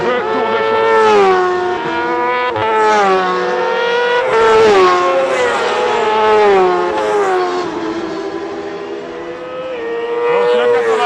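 Race machines on warm-up laps at the Croix-en-Ternois circuit during a Promosport race: loud, continuous engine roar with pitch rising and falling as the engines rev, close and dominant throughout.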